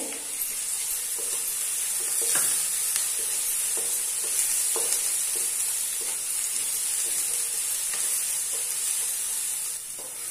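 Ginger-garlic paste frying with onions in a pan for a prawn masala, giving a steady close sizzle and hiss throughout, with occasional scrapes and taps of a stirring spoon.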